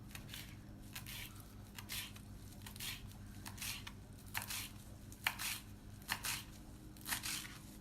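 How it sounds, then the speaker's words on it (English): Knife cutting the head off a bunch of cilantro for guacamole salsa dip, a series of soft crunching chops and rustles at an uneven pace, close but quiet. "Just gonna cut the head of the cilantro."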